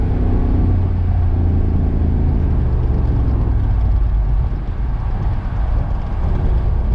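Car engine straining at high revs in fourth gear at about 60 mph, the transmission faulty and its torque converter failing to lock up; a steady, loud droning rumble continues without a break.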